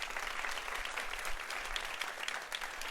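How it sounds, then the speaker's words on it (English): Audience at an election forum giving a round of applause, continuous dense clapping from a crowd, fairly faint and steady throughout without talk. "So also give them a round of applause."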